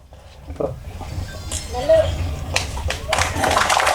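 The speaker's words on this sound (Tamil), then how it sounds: "நல்ல ஒரு கைத்தட்டலோட திரு வெங்கட் அவர்களை மேடைக்கு அழைக்கிறோம்" Audience clapping at an audio-release stage event swells up in the last seconds, starting after a stretch of talking and a few scattered taps, with voices heard over it.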